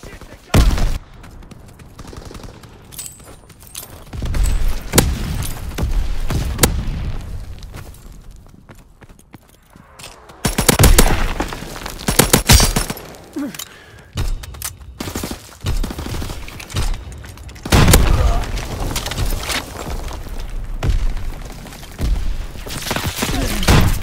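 Heavy gunfire in Call of Duty: WWII, a team deathmatch on the Egypt map, with dense bursts of shots coming in several loud waves under game noise and occasional voices.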